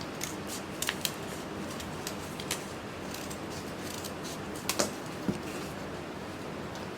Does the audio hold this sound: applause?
no